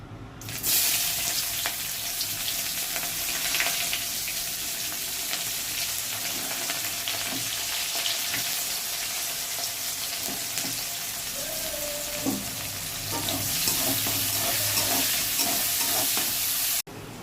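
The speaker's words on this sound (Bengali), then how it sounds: "আর এই তেলের মধ্যে পেঁয়াজ তুলে দিচ্ছি।" Onions frying in hot oil after fish, a loud, dense, continuous crackling sizzle held close for the whole stretch, with a brief faint tonal squeak near the end.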